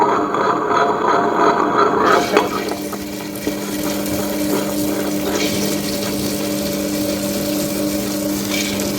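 A wet grinder grinding soaked lentils churns steadily with a constant low mechanical hum and a sloshing, gritty swirl, loud and close throughout.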